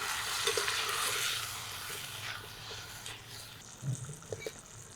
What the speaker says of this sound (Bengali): এবারই মাংস ঢেলে দিতে হবে নেড়ে চেড়ে মিশিয়ে দিই